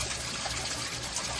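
Water pours steadily from a canister filter outlet into a koi tank, a close, continuous splashing trickle with no voices.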